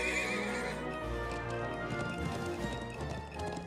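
Horse whinnying and galloping hooves in The Legend of Heroes: Trails of Cold Steel III, a loud neigh over rapid clip-clop with game music underneath.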